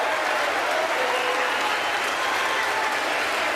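An audience at the 2024 State of the Union address cheers and applauds steadily, a dense, unbroken wash of clapping and crowd noise that fills the whole stretch at fairly loud level.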